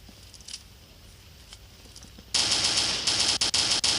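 Gunfire in the video game Zona Project X: a few faint isolated shots, then a loud, close burst of rapid automatic fire that continues with brief pauses, with no talking.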